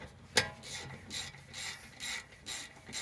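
A 14mm ratchet tightens brake caliper bolts on an Acura TSX during a rotor upgrade, giving a close run of evenly spaced clicking pawl bursts that starts with one sharp click.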